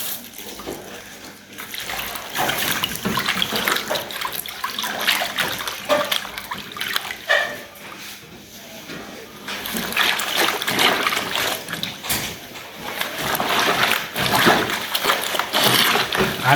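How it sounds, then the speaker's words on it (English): Fabric being rinsed by hand in water while cleaning household articles: continuous sloshing, splashing and dripping, close and fairly loud, rising and falling with each movement of the cloth. "And rinsing helps remove excess soap from the washing process."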